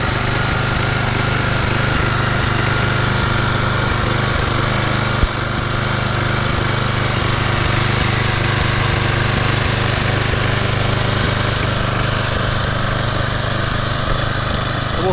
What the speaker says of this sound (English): Engine runs really smooth, even with that dirty oil in there.